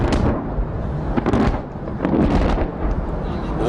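Explosions from F-16 strikes on ground targets during the Raad ul Barq military exercise in Multan, heavy rumbling booms rolling one into another, loud and sustained with repeated bursts.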